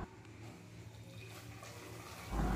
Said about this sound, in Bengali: এবার এই গরম জলটা আমি প্রেসার কুকারের মধ্যে দিয়ে দিচ্ছি।